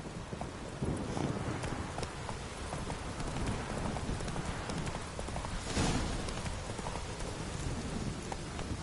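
A horse gallops in a steady clip-clop rhythm through continuous rain in Witcher 3, with the hoofbeats close and moderately loud over a dense hiss of falling water.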